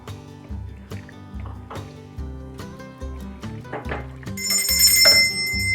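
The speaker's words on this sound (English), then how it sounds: "Oh, there's the dinner bell." A dinner bell rings in a home kitchen as a run of bright metallic chimes over repeated low tones, building louder toward the end with a sharp high ringing burst; no one speaks.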